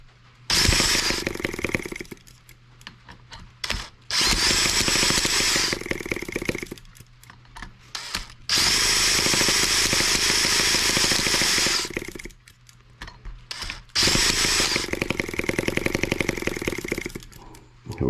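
M14 twin-cylinder tractor engine with bad throttle response and hard starting, running loud and close in several bursts that rise to a rough roar, cut off, then start again.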